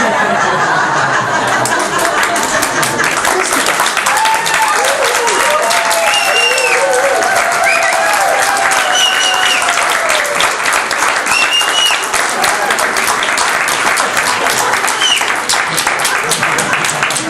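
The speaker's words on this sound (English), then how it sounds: "We are just staying for the claps." Sustained applause from a workshop audience at an anniversary gathering, dense steady clapping filling the room throughout with scattered chuckles and murmured chatter mixed in.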